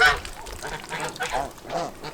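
Ducks in a muddy farm pen, their honking, quacking calls coming in several repeated bursts at moderate loudness, fairly close, with no talking over them.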